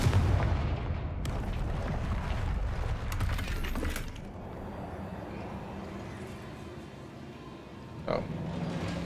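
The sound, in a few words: Confringo blasting spell in the video game Hogwarts Legacy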